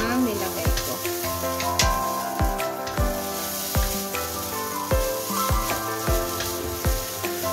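Garlic fried rice hisses and sizzles in a pan, with a regular series of sharp clanks as the rice is stirred and tossed, the scraping strokes repeating roughly every half second over a steady frying crackle.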